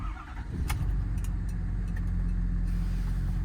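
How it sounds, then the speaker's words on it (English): A 2015 Ford F-550 diesel truck with 114k miles, an EnPak and an IMT Dominator bed idles with a steady, deep, rumbling engine drone. It runs unbroken and moderately loud, with faint rattles on top and no talk. "I'm going to get in and take it for a spin, and we'll look at the engine and run all the equipment."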